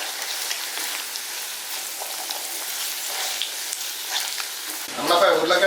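Potatoes go into hot oil with mustard seeds and fenugreek for a potato pickle, giving a steady close sizzle like rain that swells into a louder crackling burst as the potatoes are added.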